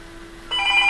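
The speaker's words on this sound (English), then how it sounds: "sorry about the phone" A telephone begins ringing midway through a quiet workshop moment, a bright electronic trill that starts abruptly and holds steady, loud and close, over a faint steady hum.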